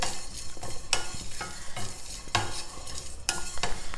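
Black pepper and curry leaves dry-roasting in a pan with no oil, a steady sizzle broken by repeated scraping stirs of a spatula, close and fairly loud with no voices.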